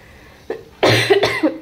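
A person with a week-long cold coughs close up, two or three rough, forceful coughs in quick succession after a short throat sound.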